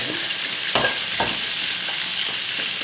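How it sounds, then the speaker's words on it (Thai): Mackerel frying in a pan, a steady close sizzle with a few soft pops and stirring scrapes spaced through it, no voices. "ทอดปลาทูรอก่อน"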